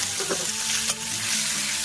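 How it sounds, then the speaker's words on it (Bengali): Cumin, bay leaf and chopped onion sizzle in oil left from frying fish, a brief dense hiss with a few stirring scrapes and a sharp spatter near the middle. "ওই মাছ ভাজা তেলে জিরে, তেজপাতা দিয়ে দেবো, পেঁয়াজ কাটা দিয়ে দেবো"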